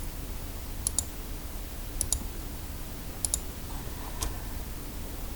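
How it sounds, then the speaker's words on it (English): A computer mouse gives sharp, quiet clicks, mostly in quick pairs spaced about a second apart, over a soft background hiss. "I'm just clicking on the outsides of the letters to select them"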